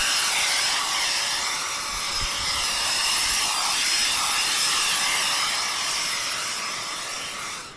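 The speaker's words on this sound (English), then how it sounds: "Before we roll it up, we take the blower and get all the dirt off of it." A leaf blower blasts dirt off a tent before it is rolled up at a campsite, making a loud, steady, broadband roar that holds nearly unchanged for several seconds, close to the listener, with no talking.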